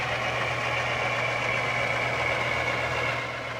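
HO scale model diesel locomotive, such as a BN F-unit or an Alco C-424, running past on a layout, giving a steady, loud engine drone with a low hum throughout and no talking.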